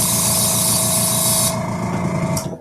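An airbrush sprays a hissing burst into a lure-painting bowl to clean it out, loud and steady for about a second and a half, then cutting off, followed by a brief final puff.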